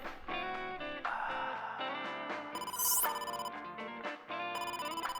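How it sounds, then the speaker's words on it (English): An old-style telephone bell rings inside the video game AI: The Somnium Files, with repeated bright trilling bursts layered over busy game music and sound effects, fairly loud and steady for several seconds. "We got a phone call."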